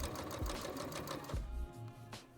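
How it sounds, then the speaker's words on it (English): A sewing machine stitching a cloth face mask runs in rapid mechanical bursts, its needle chattering quickly, with a pause and a few slower stitches toward the end. "Here's me actually sewing."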